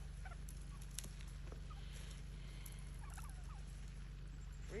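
Turkeys on a homestead gobble while eating scattered corn, the calls faint and intermittent against a steady low hum, with no talking.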